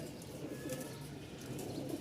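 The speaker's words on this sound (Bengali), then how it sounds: "তাদের জন্য একজোড়া সাদা কবুতর আছে ধবধবা সাদা" Pigeons coo softly through a busy background at the Mirpur-1 pigeon market in Dhaka, with low murmuring calls and occasional chirps over a steady crowd ambience.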